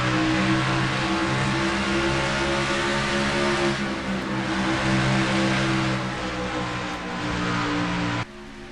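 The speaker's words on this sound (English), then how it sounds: "Here comes number 43, Mike Becker, and that car's been on a tear as of late, the 43 machine" A race car engine in a NASCAR racing video game at Dover, roaring steadily and loudly with a sustained high drone that shifts slightly in pitch before dropping off abruptly near the end.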